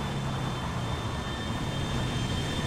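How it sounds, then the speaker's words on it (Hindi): Jet engine in GTA 5 roaring steadily, a constant loud broadband rumble with a thin high whine running through the whole clip, no voices. "हम दो दो जेट इंजन का सामना करेंगे"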